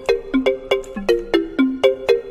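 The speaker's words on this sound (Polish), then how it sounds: "O, telefon." A phone rings in a video game, a looping melodic ringtone of short bright electronic tones in a regular bouncing pattern, clear and alone for several repeats.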